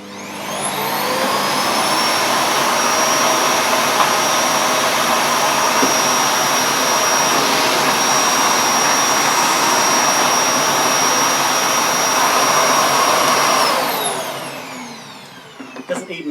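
A Hoover Sonix 2300-watt bagless vacuum cleaner runs on carpet, a loud, steady whining roar with a high motor pitch that spins up, holds for about twelve seconds and then winds down.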